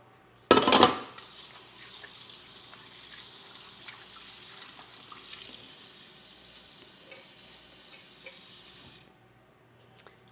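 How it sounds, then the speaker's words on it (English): Hands rinsed under a running kitchen tap, a sharp splash at the start and then a steady hiss of flowing water for several seconds before it shuts off, no talking. "Let me rinse my hands."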